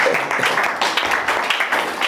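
Church congregation applauding in acclamation for the Lord, a dense burst of scattered hand claps and some voices filling the short moment at moderate loudness.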